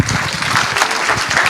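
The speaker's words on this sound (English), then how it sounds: "let's applause him" A conference audience at FOSDEM applauds a speaker arriving to talk about a do-it-yourself Linux computer, a dense burst of clapping from a crowd in a hall, loud and continuous throughout.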